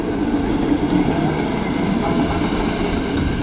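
A vintage tram rolls along its rails with a continuous, loud, close rumbling rattle and steady wheel-on-track noise, no voices over it.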